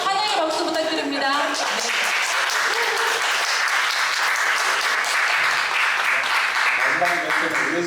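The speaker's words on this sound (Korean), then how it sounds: "환영의 박수 부탁드립니다" Welcoming applause from attendees at a social economy policy forum rises under a speaker's voice and continues as steady, fairly loud clapping. Talk can be heard at the start and again near the end.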